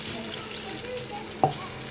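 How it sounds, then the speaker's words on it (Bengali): Water is poured into spice paste frying in a pan for a chicken and prawn dish, making a steady close sizzle with a sharp hiss burst partway through; no one speaks. "মশলাটা কষাই নিয়েছে এখন দিয়ে দিচ্ছি পানি"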